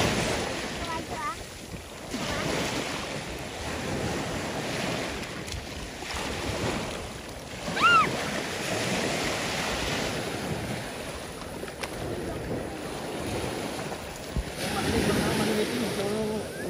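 Sea surf washing onto the shore at Vista Paloma beach resort in Belison, Antique, a steady broadband wash with wind buffeting the microphone, the water murky after rain.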